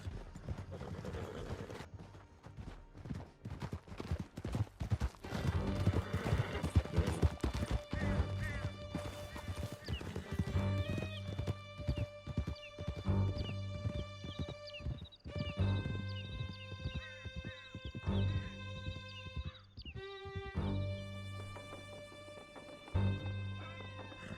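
Horses gallop in the video game Red Dead Redemption 2, with steady rhythmic hoofbeats and a neigh over a loud orchestral score with sustained tones, with occasional voices.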